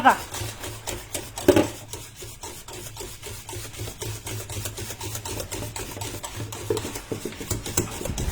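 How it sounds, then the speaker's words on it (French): A spoon stirs thick flan pastry cream in a pot, a steady rhythmic scraping and rubbing against the metal, close and continuous, with occasional clicks. "Et on n'arrête pas de mélanger à l'extérieur."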